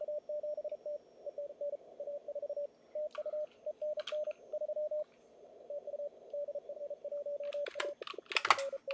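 A steady-pitched Morse code CW radio tone from a German amateur station during a contest keys out dots and dashes in a continuous rhythm, with some static bursts near the end.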